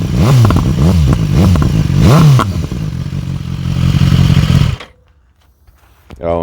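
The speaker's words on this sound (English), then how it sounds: "I'll do a quick start up. You can hear the exhaust." A 2019 BMW S1000XR motorcycle starts and revs with a loud, rough exhaust, rising and falling in several sharp blips before cutting off to near silence, then a brief clatter returns at the end.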